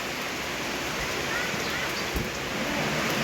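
Light rain falling steadily outdoors, a continuous soft broadband hiss with no talk over it and one faint low knock partway through.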